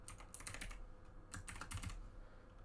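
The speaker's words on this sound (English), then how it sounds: "you're going to type that in the address bar" Quick bursts of keystrokes on a computer keyboard, typing an address into a browser's address bar, come in two clusters separated by a short pause, close and fairly quiet against a low background hum.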